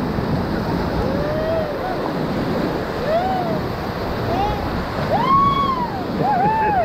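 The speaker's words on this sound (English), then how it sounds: "as we bounce over these big waves" Rushing whitewater waves surge continuously during a rafting trip on the Middle Ocoee River, a steady roaring wash with faint shouts and whoops rising over it.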